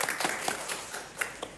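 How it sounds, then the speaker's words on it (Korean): Scattered hand claps from a small group of panelists and staff gathered for a studio recording, a few sharp claps spread unevenly over a brief moment, fairly quiet and loose rather than a full ovation. "박수 한번 치고 할까요?"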